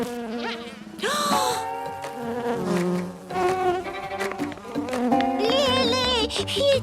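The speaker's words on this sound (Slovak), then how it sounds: "Muchy nám uleteli." High, wavering buzzes of cartoon flies dart and swoop over lively music, with rising and falling whines layered throughout and no speech.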